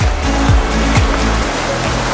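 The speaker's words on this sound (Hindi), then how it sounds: "वो देख पानी से कैसे लहर आ रहा है" Ocean waves wash steadily onto Kudle Beach in Karnataka, a loud, continuous roar of surf close by with no talking.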